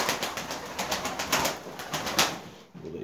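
Pigeon in a breeding coop landing, a run of quick wing flaps close by, ending with a short pause and then faint background noise.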